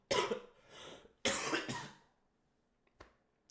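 Several harsh coughs in quick succession from a commentator during a Formula racing league broadcast, two loud bursts followed by a pair of faint short hacks, with no talk over them.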